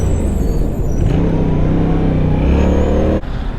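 A loud, close motorcycle engine with a stock exhaust revs steadily, its pitch rising and falling with throttle changes, nothing else audible.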